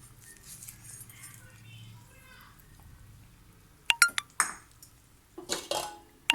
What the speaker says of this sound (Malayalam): അതും കൂടി കറിയിലേക്ക് ഒഴിച്ചു കൊടുക്കാം.